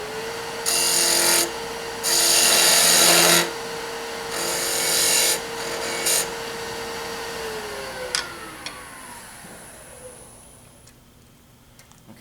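A wood lathe turns a Christmas ornament back to round, with loud bursts of cutting and scraping separated by short pauses, then the motor winds down to a fading hum.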